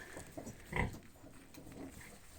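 Newborn piglets grunt and squeal softly at close range during a sow's farrowing, with a louder burst in the middle amid faint barn rustling.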